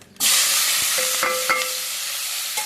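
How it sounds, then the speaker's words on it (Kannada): Capsicum, onion and tomato hit a hot pan for a Mangalore-style egg curry, a loud sudden sizzle that keeps hissing steadily, with a few utensil scrapes and taps over it. "ಚೆನ್ನಾಗಿ ಫ್ರೈ ಮಾಡಿ"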